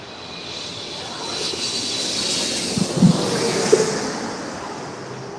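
An airliner takes off from runway 25 right at LAX, a steady broad jet roar heard from a distance, building slightly, with no talking.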